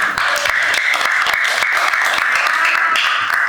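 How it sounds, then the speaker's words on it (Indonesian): Classmates applaud together after group presentations on air pollution in a school lesson, a dense steady patter of many hands clapping for several seconds, loud and continuous with a few sharper individual claps standing out. "tepuk tangan untuk kita semua"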